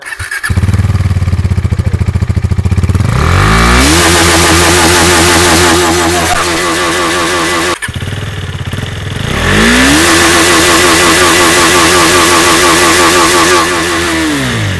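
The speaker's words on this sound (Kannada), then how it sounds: "ಈ ಗಾಡಿಲಿ ಸೌಂಡ್ ಕೇಳಿ ಫುಲ್ ಸೌಂಡ್ ಮಾತ್ರ ಫುಲ್ ಕ್ರೇಜ್ ಆಗಿದೆ" A KTM Duke 390 motorcycle engine with its stock silencer idles, then is revved hard twice. Each rev climbs to a loud, sustained high-rpm roar and drops back, recorded close with no talking.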